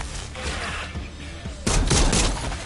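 Pistol gunfire in a zombie video game: a burst of sharp, loud shots over continuous game noise, with the densest firing in the second half.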